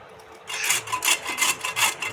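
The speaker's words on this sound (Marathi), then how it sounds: "तर इथे आता आपण गाजर किसून घ्यायचे सगळे" Carrots for gajar halwa being grated by hand, a close, steady run of rough rasping strokes in an even rhythm, roughly four or five scrapes with no talk.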